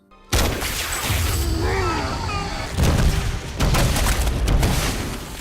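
A gunshot sets off a propane tank explosion in a film scene, starting with a sudden loud blast, followed by roaring rumbling debris and further heavy booms, with brief squealing tones early on.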